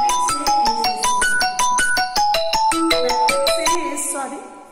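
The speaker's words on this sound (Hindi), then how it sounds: "फोन आ रहा बीच में." A phone ringtone plays during a maths lecture, a fast, bright melodic run of repeated electronic notes, loud and close, that fades out at the end.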